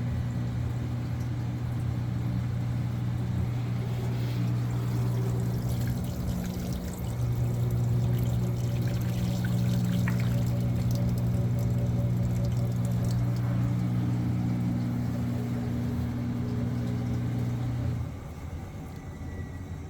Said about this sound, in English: So this is the first time rinsing, and this rotates very fast